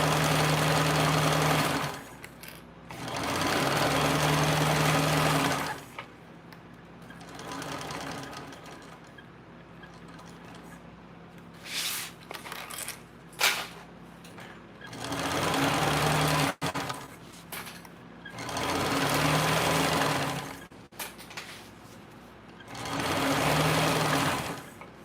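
A sewing machine stitches in several loud, steady runs of a few seconds each, including a back stitch, separated by pauses filled with small handling clicks and rustles.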